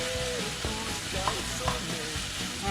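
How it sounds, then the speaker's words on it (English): Ground turkey taco meat browning in a dry hot pan gives a loud, steady sizzle and crackle up close, with a few stirring clicks through it. "See how it's sizzling? A lot louder now. It's because it's dry in the pan,"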